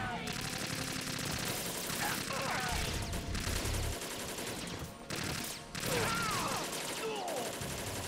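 Rapid automatic gunfire from held-down shooting in Metal Gear Solid 2, loud and sustained across the stretch in dense bursts, with brief breaks and game effects mixed in.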